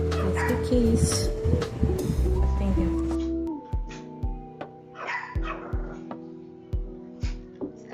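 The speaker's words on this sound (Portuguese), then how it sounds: "Os cachorros estão sempre perto de mim" Dogs indoors yipping and whimpering in short, repeated bursts close by, with a tonal, whiny quality, following a busier stretch of mixed household sound.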